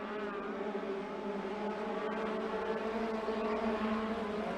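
Midget race cars running a dirt track at Skagit, their engines a distant, steady high-pitched drone that swells slightly without a break, with no talk over it.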